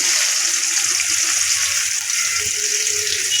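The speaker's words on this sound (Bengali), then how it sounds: "এবার এই তেলেই পেঁয়াজ কুচি দিয়ে দেবো" Chopped onion dropped into hot oil left from frying eggplant, a loud, steady, dense sizzle that hisses evenly throughout, close up and with no talking.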